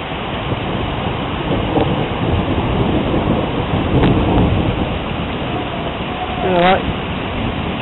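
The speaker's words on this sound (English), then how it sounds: "that water is just pouring down through that drain" Heavy rushing water pours steadily down a large drain during a hail storm in Tauranga, a continuous broad roar like a downpour draining away, with a brief higher whistling sound near the end.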